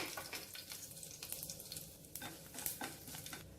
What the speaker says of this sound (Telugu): పోపు దినుసులు వేగిపోయాయి